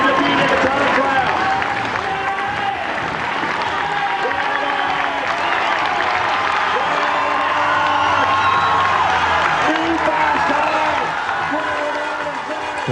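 A crowd at the 1991 Tour du Pont cycling time trial cheers and applauds steadily and loudly, with whoops and shouts rising from the mass of spectators throughout.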